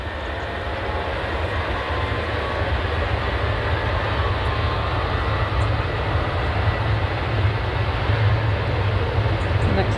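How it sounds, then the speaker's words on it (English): An airliner on final approach at Manchester Airport in the early morning gives off a steady, loud engine roar with a deep rumble that builds slightly, continuous and alone. "So we've got a plane on finals."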